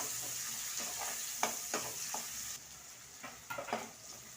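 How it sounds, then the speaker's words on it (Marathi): Finely chopped onion and garlic sauté in a pan for a bamboo shoot vegetable dish: a steady sizzle runs throughout, with a series of sharper scraping stirs standing out up close. "इथे अर्धा कांदा मी लहानचा घेतलेला आहे तो बारीक करून घेतलेला आहे याप्रमाणे त्या कांदा लालसर वगैरे परतून घ्यायचा आहे"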